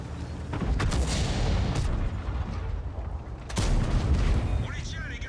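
In World of Tanks gameplay, heavy cannon booms and metallic impacts sound as HEAT shells bounce off the armor of an AMX 13 90 or AMX 30, two loud blasts over a rumbling battle, with a voice talking over them.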